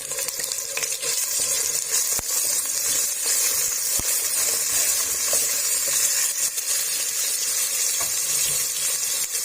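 Ginger, garlic and onion paste fries in hot ghee with a constant loud sizzle and hiss, broken by a few sharp clicks of a spoon being stirred against the pan, and no talking.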